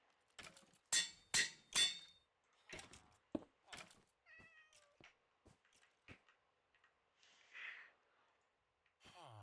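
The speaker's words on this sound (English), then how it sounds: "We'll do Pumpkin since he's an orange cat." An orange cat in a video game gives a few short meows amid soft scattered clicks and faint game sounds, quiet overall and with no talk.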